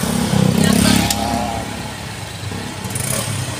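A motorcycle carrying a dog on the back seat rides along a quiet training road, its engine humming steadily at mid pitch with small surges, while someone talks over it.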